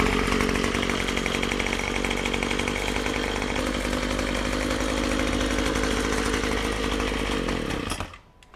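A Troy-Bilt TB25PS 25cc gas pole saw engine runs loud and steady at high revs for about eight seconds, then cuts off abruptly at the end.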